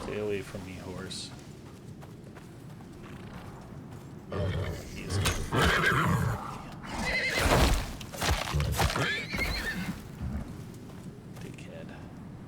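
A horse neighs and whinnies loudly in the survival game Icarus, with hoofbeats and creaking around it, and someone speaks briefly near the end.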